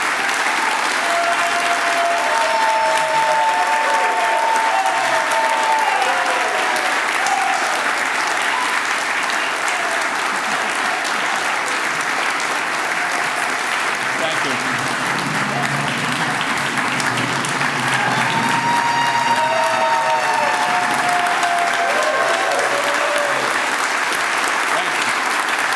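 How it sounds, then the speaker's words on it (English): Sustained, loud applause fills a banquet room at a labor history society awards dinner, steady clapping from a large crowd for nearly half a minute with a voice or two briefly over it. "Thank you all for the applause for my labor of love"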